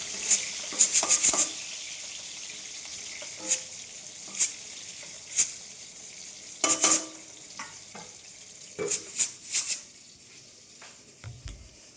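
Pumpkin and eggplant pieces fry in a home kitchen pan, giving a soft, low sizzle under scattered spatula clicks and scrapes, with a few louder stirring bursts near the beginning and toward the end.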